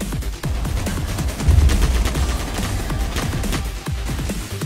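Rapid gunfire in the Military Tycoon video game, a dense stream of overlapping shots and bursts over a continuous low engine-like drone, steady and fairly loud with no talk.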